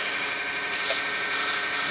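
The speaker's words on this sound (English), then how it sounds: "Do some sanding on it." A steady, hissy rubbing of sandpaper against wood spinning on a lathe, continuous and fairly close, with no talking.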